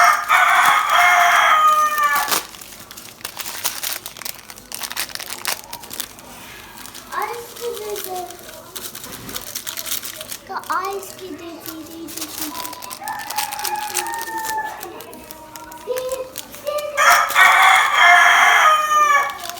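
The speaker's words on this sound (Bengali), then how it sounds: "মোরগ মুরগি এখানে ডাকাডাকি শুরু করে দিচ্ছে" A rooster crows loudly near the start and again near the end, with hens clucking and calling in between while people talk over the farmyard noise.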